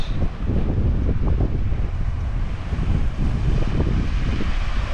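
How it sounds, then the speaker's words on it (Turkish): Strong wind blows around a camper van, a steady, loud roar with low buffeting gusts against the microphone throughout and no voices. "Evet, o rüzgar çıkmış."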